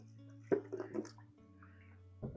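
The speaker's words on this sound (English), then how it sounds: "so I'm going to add some more water" Water is poured into a thick mixed slurry, giving a couple of brief close splashes and gurgles with soft drips between them, quiet and alone.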